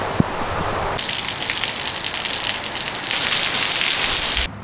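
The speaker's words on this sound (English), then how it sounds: "but I got to get out of this rain" Heavy rain pours down outdoors in a dense, steady hiss that swells louder after the first second and keeps up without pause before cutting off abruptly at the end.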